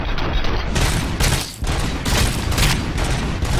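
Rapid bursts of gunfire from RoboCop: Rogue City crackle loudly and nearly continuously, with a brief lull midway before the volleys resume.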